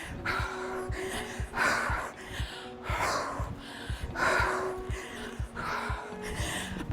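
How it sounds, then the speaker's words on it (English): Heavy, rapid breathing after a bodyweight strength and cardio workout, a run of about ten loud gasping inhales and exhales close to the mic, with a few snort-like breaths. "I'm completely out of breath."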